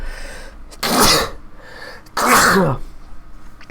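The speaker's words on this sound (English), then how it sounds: "And I'm gonna sneeze" A person sneezes twice indoors, two loud, close bursts about a second apart, the second one longer, with quiet room tone between them.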